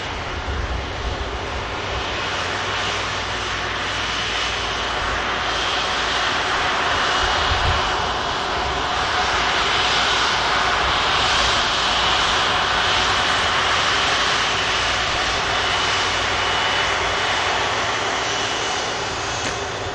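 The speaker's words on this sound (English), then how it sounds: "Rolls Royce, Trent 700s on board." An airliner powered by Rolls-Royce Trent 700 engines roars past at an airport, its loud, sustained engine noise swelling and holding steady throughout.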